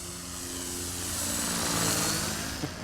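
A Hobbyking Auto G2 V2 model gyrocopter flies outdoors, its propeller producing a continuous buzzing drone that swells slightly louder midway before easing off, heard alone.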